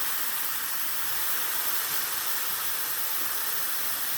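Homemade tomato juice is poured into a pan of stewing minced meat, making a steady, even hiss that continues without a break.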